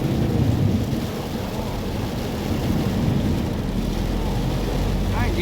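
Heavy rain pours steadily during a storm in Songadh, a continuous dense wash of noise with low rumbling that fits thunder, loud and unbroken throughout.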